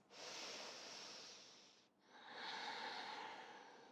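Two long, deep breaths during a yoga flow, each a broad airy rush close to the ear, split by a short pause, with no talking.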